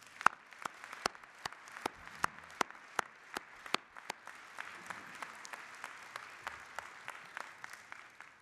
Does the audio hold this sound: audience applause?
yes